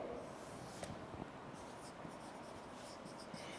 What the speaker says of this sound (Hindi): इम्प्लीकेशंस यहाँ लिखती हूँ मैं।